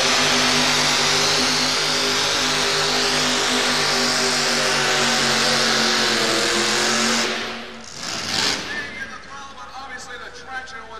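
A truck-pulling vehicle with a 1947 tractor-type rear end roars at full power, loud and sustained for several seconds before abruptly cutting off, leaving crowd noise and an announcer's voice at a 1987 motorsports show.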